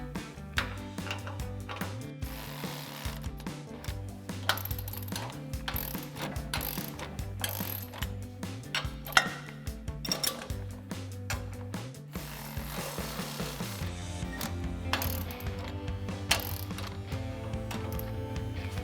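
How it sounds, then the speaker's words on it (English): A hand wrench ratchets to tighten the top and bottom nuts and bolts on the grille guard bracket of a 2021-2026 Ford Bronco. Steady, close, rhythmic clicking runs in repeated bursts throughout, with no talking. "now we can come back and tighten our top and bottom bolts that are supporting the bracket for the grille guard"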